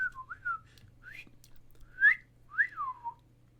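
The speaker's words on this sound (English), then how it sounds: "Sorry, that was a bad whistle." A person whistles a wavering, uneven tune of sliding, rising and falling notes, fairly close, with short gaps between phrases over a faint low hum.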